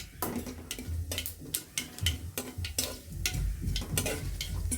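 Lentil dumplings (bori) fry in a pan with a soft sizzle under repeated clicking and scraping as a utensil stirs against the pan in an uneven rhythm, fairly quiet and close, with no voices.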